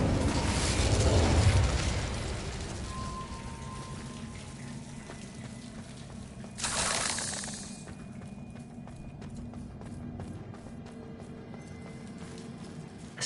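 An Incendio fire spell is cast in the video game Hogwarts Legacy, a low whooshing burst near the start, another bright blast of flame midway, and a quieter crackling background in between, with no speech.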